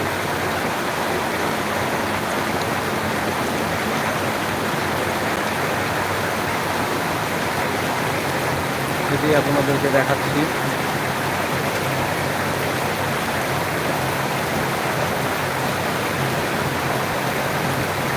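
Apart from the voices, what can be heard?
heavy monsoon rain at night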